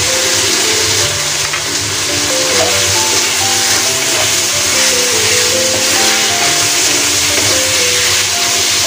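Garlic cooking in a hot pan, a loud steady hiss and sizzle filling the whole stretch close up, with faint tonal hums and clatter running underneath.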